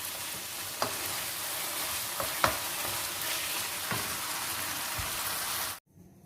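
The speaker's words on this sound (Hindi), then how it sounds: "मैं भून रही हूँ" Karahi gosht masala frying and being stirred in a pan, a loud continuous sizzle with occasional spoon scrapes and clinks, cutting off abruptly near the end.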